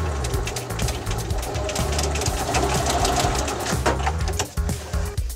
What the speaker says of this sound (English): hold my threads, backstitch where the top of the overlock is.